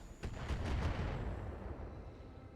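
Autocannon fire striking battle mechs in RogueTech: several sharp, heavy reports in quick succession, followed by a long low rumble that fades out.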